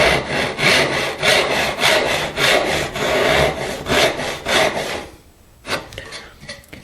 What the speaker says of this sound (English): I'm going to saw relief cuts at the fillet